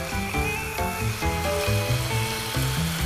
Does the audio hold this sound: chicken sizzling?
yes